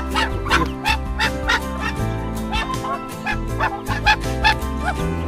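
Ducks on a farm calling loudly and continuously, with overlapping nasal, honking quacks from several birds close by.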